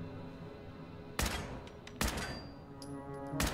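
Gunfire aimed at a barricade in the Fallout video game: three sharp, loud shots spaced about a second apart, each cracking over a low hum of background game ambience.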